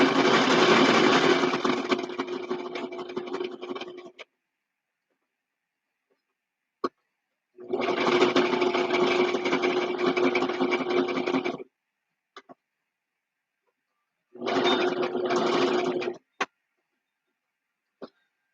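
A sewing machine runs in three separate bursts of steady whirring, each lasting a few seconds, with quiet gaps and small clicks between them.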